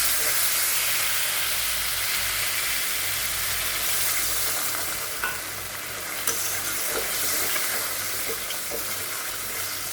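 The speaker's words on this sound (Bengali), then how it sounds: "আমি আরও ভালো করে এটাকে ভেজে নেবো" A spice paste for doi kochu (taro in yogurt) sizzles and spits steadily in a hot pan, close up, with a few clinks of stirring and no talking.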